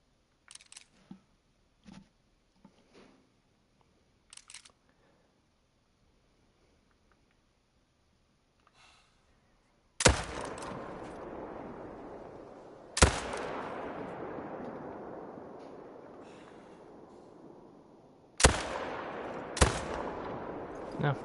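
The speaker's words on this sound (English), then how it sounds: "it looked like we actually put a good neck shot on him" A hunting rifle fires at an animal in theHunter: Call of the Wild. Four sharp, loud shots come at uneven intervals after a quiet stretch of faint ticks, and each shot is followed by a long echoing tail.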